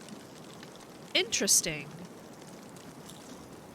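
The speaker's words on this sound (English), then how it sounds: "Route 1 waterfall." A waterfall in the video game The Long Dark makes a steady, rain-like rushing wash throughout. A single spoken word briefly rises over it.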